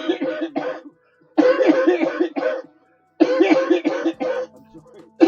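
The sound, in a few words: coughing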